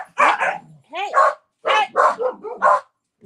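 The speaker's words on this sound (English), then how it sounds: "then they go ahead and bark" Several dogs bark in close, loud bursts of yips and bow-wows indoors, with a short gap before another volley.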